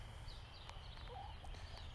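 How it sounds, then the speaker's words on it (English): Farm poultry give several soft, faint gobbling clucks over a quiet background hum, spread across the moment. "I'm with my chickens now."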